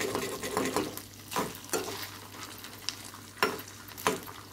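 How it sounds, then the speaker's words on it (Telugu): Food frying in a pan on a medium flame and being stirred until crisp, a close, steady sizzle broken by repeated scraping strokes of a spoon against the pan. "కొంచెం కరకరలాడుతూ వేగాలి"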